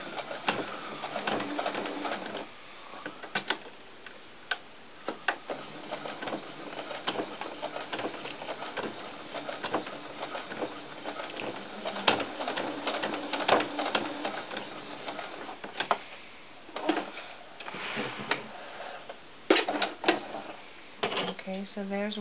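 A sewing machine stitches a doll's cowboy hat in short bursts of rapid mechanical chatter, starting and stopping repeatedly, with a person talking quietly between and over the runs.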